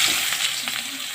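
Chopped onion drops into hot oil already holding a little whole cumin, bursting into a close, bright sizzle with crackling spits and brief stirring scrapes.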